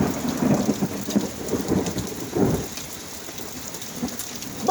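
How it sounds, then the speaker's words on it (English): A thunderstorm with heavy rain catches a tree-cutting crew outdoors: rolling rumbles of thunder sit over a dense, steady hiss of rain on surrounding surfaces, fairly loud and close, with no talking. "Oh, we are in a rainstorm."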